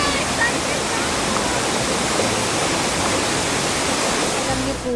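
A loud, continuous rush of falling water roars without pause, dense and close, like standing right beside a waterfall in the Philippines.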